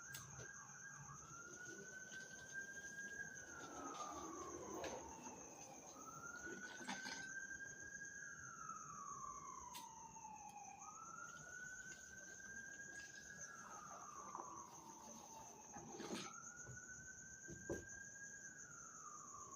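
A wailing siren sweeps up and down in repeated cycles, somewhat distant, over a steady high insect-like hum.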